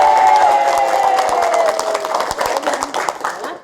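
An audience at a talk claps and cheers, a burst of scattered hand claps and raised voices that is loudest at first and gradually thins out, with a voice speaking over it.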